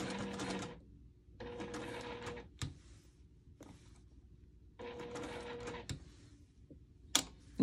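A sewing machine stitching appliqué around English paper-pieced fabric hexagons with thick thread, running in several bursts of steady mechanical whirring separated by pauses, with occasional clicks and knocks between runs.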